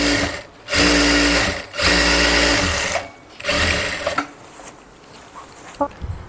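A sewing machine stitches a blouse in several close, loud bursts of rapid whirring, each stopping briefly before the next run, with faint handling clicks at the end.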